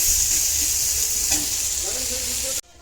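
Curry sautéing in a pan, a dense continuous close sizzle with faint stirring, cutting off abruptly at the end.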